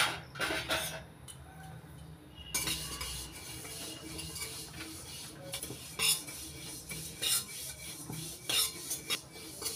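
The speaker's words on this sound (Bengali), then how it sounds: "তিল ভাজার সময় অনবরত নাড়াচাড়া করতে হবে" Sesame seeds are stirred constantly in a dry pan over medium heat with repeated scraping and rustling spatula strokes, close and moderately loud, with occasional metallic taps.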